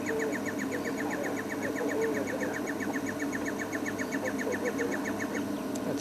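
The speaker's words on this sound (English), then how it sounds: "That's a striped cuckoo calling in the back there." A striped cuckoo calls in the background during a drive, a long rapid series of evenly spaced whistled notes running for several seconds over a constant engine hum and broadband rumble.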